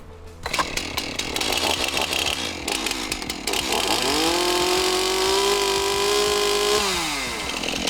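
A chainsaw roars close by, revving in bursts, then settles into a sustained high-pitched whine as it bites through an Osage log before easing off.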